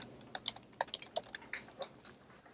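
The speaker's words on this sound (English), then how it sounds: "So we can either type in pneumonia," Fingers typing on a computer keyboard in a short run of crisp, close keystrokes with uneven spacing, alone without talk.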